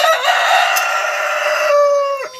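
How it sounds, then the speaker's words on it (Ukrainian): A Cochin rooster crows loudly and close by in a farmyard, one long sustained crow that holds steady before breaking off near the end, with no talk over it. "Кохінхінун мене почує, починає дуже голосно кукурікати."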